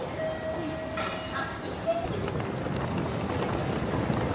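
A Tokyo Metro Ginza Line subway train in Tokyo gives a steady, close rolling rumble, with a thin high whine in the first seconds that fades into continuous rail noise.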